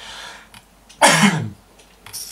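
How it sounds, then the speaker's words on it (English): A single harsh, throaty cough bursts out up close, brief and loud, with quiet background before and after. "That's it, just cough all over me."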